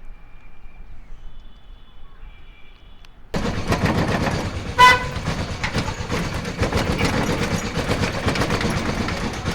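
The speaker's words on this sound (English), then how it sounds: "you can hear traffic and everything" Busy Jaipur city traffic starts abruptly after a quiet moment, a dense steady roar of engines with a sharp horn toot near the middle and continuous rumble throughout.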